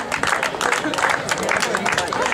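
Crowd applause for a runner finishing the double mile at a street race, dense continuous clapping with a commentator's voice talking over it.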